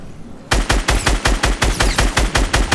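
Rapid automatic gunfire from a Fortnite match, a steady burst of about a dozen loud, evenly spaced shots firing close by with no talk over it.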